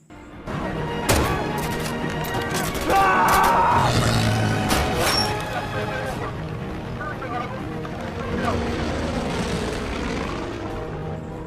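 A Japanese fighter plane maneuvers over Shanghai in a war film, its engine roar mixed with crashes, gunfire-like bangs and battle noise throughout, with a voice surfacing in the din.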